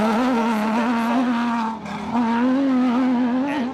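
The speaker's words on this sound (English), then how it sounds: "who doesn't love race cars in the morning? What a lovely sound." An off-road race car at the 2024 Finke Desert Race drones steadily with a loud, sustained engine tone that dips briefly and then climbs again, with no talking.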